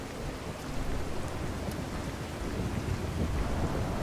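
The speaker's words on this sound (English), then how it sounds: "And this rain, there's a lot of rain." Steady rain pours in Fallout 4, a dense, even hiss of falling drops that holds throughout at moderate loudness, with faint rumbling underneath and no talk.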